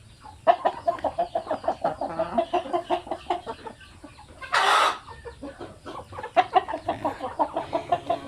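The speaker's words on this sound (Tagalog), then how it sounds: "So, yan yung rooster na ginagamit ko by the way." A rooster crowing once in the middle while chickens cluck steadily in short, rhythmic calls around it, close by on a small backyard farm.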